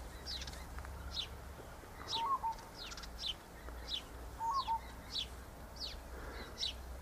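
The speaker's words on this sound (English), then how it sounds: "That's the hollyhock bird" A small bird calls over and over outdoors, short high chirps repeating about every half second, faint against quiet background hiss.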